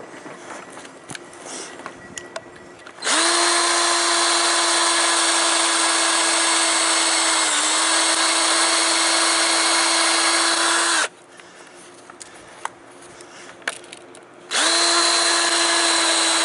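Power drill boring into ice lodged in a Woodmizer LT15 sawmill, a loud sustained whine that runs for several seconds, stops briefly, then starts again, with faint clicks and handling noises in the gaps.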